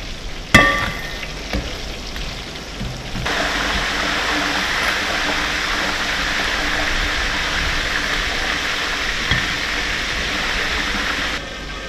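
Crab frying in hot oil in a pan for stir-fried glass noodles. A few clatters open into a loud, steady sizzle that holds until near the end, with no voices.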